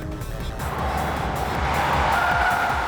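Race cars including a Nissan GT-R, a Mitsubishi Evo 7 and a Porsche battle on the Tsukuba circuit, with loud engines roaring at full throttle and tires squealing continuously as they corner close by.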